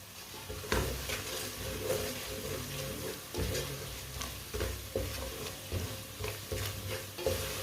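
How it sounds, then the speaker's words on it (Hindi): Spices fry in a pan for aloo gobi, a steady sizzle broken by repeated scraping and stirring strokes of a spoon against the pan, close and fairly loud. "मसालों को 1 मिनट के लिए पका लेंगे। कम आंच पे पकाना मसालों को जलने नहीं देना"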